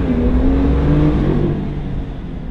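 A BMW M2 LCI F87 engine pulls hard in manual mode, a loud, steady, rising drone that holds close throughout and eases slightly toward the end.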